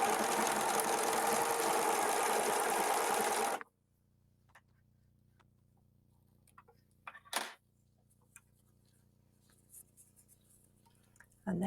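A Husqvarna Viking Overlock S100 serger with an elastic foot runs fast for several seconds, a dense whirring stitch sound that stops abruptly, followed by quiet handling clicks and a brief restart at the end.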